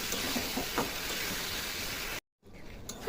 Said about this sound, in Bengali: মশলাটা দিয়ে কিন্তু খুব সুন্দর করে কষিয়ে নেব।